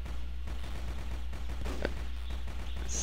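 A shooting video game gunshot cracks sharply once, with scattered bursts of game gunfire around it, fairly loud and close against a steady electronic background.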